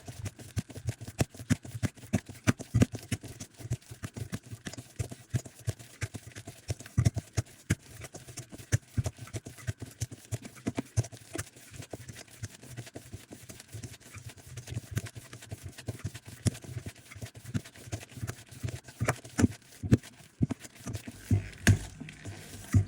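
Bread dough gets kneaded by hand at home, making a steady run of soft, irregular slapping and squishing pats that continue for a long stretch, up close, with no speech.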